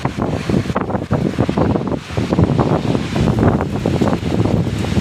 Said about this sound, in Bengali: প্রচণ্ড পরিমাণ বাতাস আসতেছে